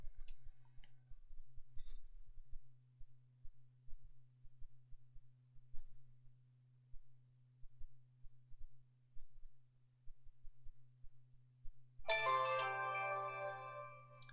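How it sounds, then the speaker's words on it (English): An HTC One phone on Sprint boots for the first time and plays its startup chime through its front BoomSound stereo speakers: faint clicks and near silence, then a bright, ringing chime near the end, close and clear. "The stereo nature of that little chime"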